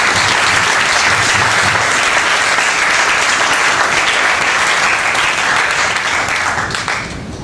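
A church congregation applauds together in sustained, loud, dense clapping that holds steady for several seconds, then begins to thin and fade slightly near the end.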